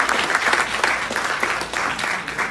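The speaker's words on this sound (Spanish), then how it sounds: "Un fuerte aplauso" Loud, steady audience applause at a book presentation, a dense wash of many hands clapping continuously with slight swells, filling the room without pause.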